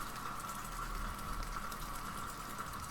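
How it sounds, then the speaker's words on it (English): Looping rain sound effect in a streamed app hisses softly and steadily, a faint continuous patter of drops with a faint low hum beneath, no voices. "So now it's raining."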